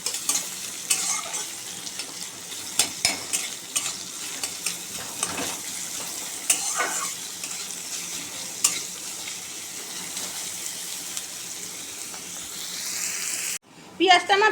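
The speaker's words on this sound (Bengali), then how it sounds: "পেঁয়াজটা একটু ভাজা ভাজা আগে করে নেব।" Chopped onions sizzle and fry in hot oil in a wok with black cumin seeds, a steady close hiss broken by stirring scrapes and clinks, with a voice talking at times over the cooking.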